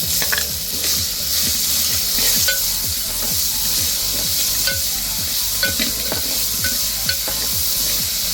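Roasted peas sautéing in a hot pan, a steady frying sizzle broken by repeated scraping strokes of a spoon stirring them, close and continuous throughout.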